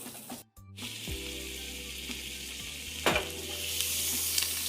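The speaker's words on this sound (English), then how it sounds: "you put in a little butter in the pan" Eggs frying in butter in a hot pan give a steady close sizzle with broadband crackle, interrupted briefly near the start, then continuing with a few louder pops and scrapes.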